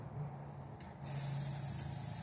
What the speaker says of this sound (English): Spray it there where you see rust.